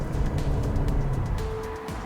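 2016 Toyota Prius 1.8 VVT-i hybrid with e-CVT accelerating hard, a sustained engine drone at steady loudness, heard alone with a faint rising tone near the end.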